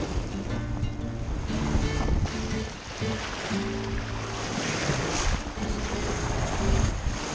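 A sailboat heading south from France toward the Balearic Islands in rough seas, with loud rushing waves breaking against the hull and heavy wind buffeting the microphone, continuous and close, with no talking.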